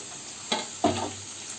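Oil sizzling in a pan for Bengali rui fish curry, with two brief stirring scrapes and a short surge of frying over otherwise quiet background, with no voices.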